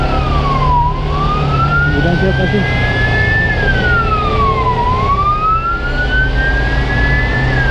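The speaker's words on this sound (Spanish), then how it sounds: "la ambulancia que para eso tiene sirenas" A loud ambulance siren wails up and down in long sweeping cycles on a road, close by and continuous, with a motorbike engine rumbling underneath and a voice calling out briefly.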